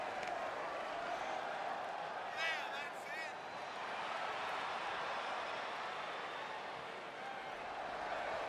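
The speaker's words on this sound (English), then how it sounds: "And Michael, it sounds to me like this crowd already picked the one who they want to win this match" Dense roar of a wrestling arena crowd at an AEW Dynamite singles match, a steady wash of cheering and chatter held loud throughout, with a brief whistle-like squeal partway in.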